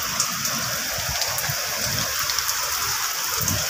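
Heavy rain pours down outdoors, a loud, continuous hiss of drops with no break.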